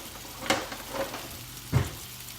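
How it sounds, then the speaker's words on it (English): Smoked sausages sizzle in a pan as they are flipped, with a soft steady frying hiss under a few distinct clacks and thumps of the turning, heard up close without talk. "we're gonna take these sausage and we're gonna flip them"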